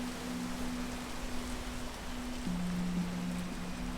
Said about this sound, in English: The rain sounds have started to go away.